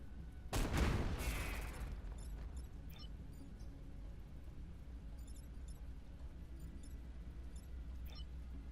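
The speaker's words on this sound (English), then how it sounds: "I guess we'll just shoot this guy and kill him." A single burst of gunfire from the Into The Breach strategy game, as a unit shoots an enemy: one sharp, loud volley near the start, then a low steady background hum with faint clicks.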